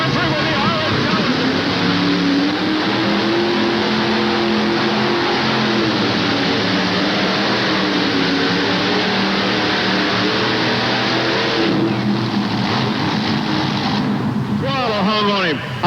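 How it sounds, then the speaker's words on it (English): Pulling tractor engines at a 1988 truck and tractor pull in Charlotte, North Carolina, roaring loud and continuous with the throttle stuck wide open, the pitch rising and falling, under an announcer talking over an arena PA. "The throttle hung wide open on him."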